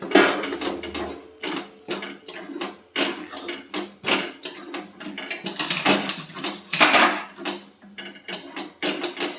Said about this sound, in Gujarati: હવે આપણે લોટ શેકેલો હતો એમાં નાખી દઈશું અને ગેસ બંધ કરી દઈશું અને સરસ રીતે આપણે મિક્સ કરી લઈશું।